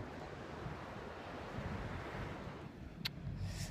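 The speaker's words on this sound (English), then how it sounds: "That's the sea." Sea waves wash steadily against the shore in a continuous broad rush mixed with wind buffeting the microphone, with a brief sharp tick near the end.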